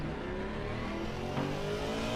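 Race cars in Assetto Corsa during an enduro at Suzuka roar steadily past with sustained engine drone and a slight rising pitch, loud and continuous with no talk.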